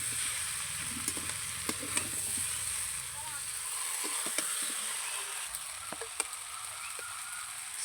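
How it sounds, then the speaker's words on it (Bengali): Jackfruit, shrimp and potato are stir-fried together in oil, giving a constant hissing sizzle with occasional clicks and scrapes from stirring, and faint background voices. "চিংড়ি মাছ, এঁচোড়, আলু সমস্ত কিছু একসঙ্গে ভালো করে এবার কষিয়ে নেব।"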